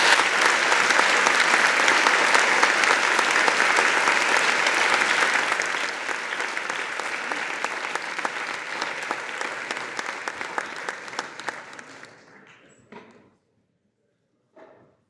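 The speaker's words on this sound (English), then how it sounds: "can we please give a round of applause to the two presidents?" A conference audience at a plenary session applauds in sustained, dense clapping for about twelve seconds, loud and steady at first, then thinning out and fading into scattered final claps before silence.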